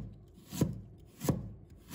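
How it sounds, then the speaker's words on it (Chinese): Knife slicing a peeled piece of fresh ginger into thin pieces on a cutting board, three crisp chopping strokes spaced about two-thirds of a second apart, close and clear with no talking. "再准备一块去皮的生姜， 把它切成薄片。"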